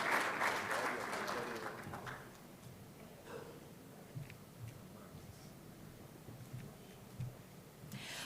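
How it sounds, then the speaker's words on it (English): An audience at a conference panel on lithium and critical minerals in Rwanda gives a round of hand clapping that is loud at first and fades out after about two seconds, leaving a quiet room with scattered rustles and small noises. "please let's escort them with a huge hand clap"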